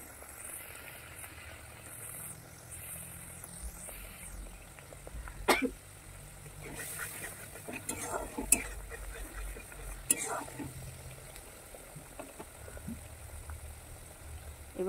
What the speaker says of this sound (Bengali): এবারে খুব সুন্দর করে কষে নেব।